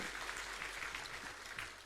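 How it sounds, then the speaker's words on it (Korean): A church congregation at Sunday service applauds the choir, a soft, distant, even patter of many hands that stays steady and fades slightly at the end. "그 다시 한번 크게 성가대 박수해 주세요"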